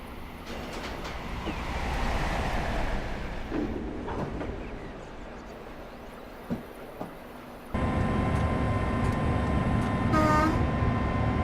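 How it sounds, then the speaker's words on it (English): The horn of a preserved Deltic diesel locomotive blares loud and sustained from the cab over the steady rumble of the running train, sounding for the last few seconds. "I hit the horn there while I was turning off the wipers."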